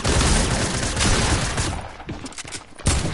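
Rapid bursts of gunfire from a PS4 online shooter game, loud and dense at first, then thinning into scattered shots.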